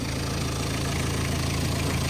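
A Renault Kangoo engine idles with a steady, even, low mechanical hum that stays constant and close throughout, with no other sounds.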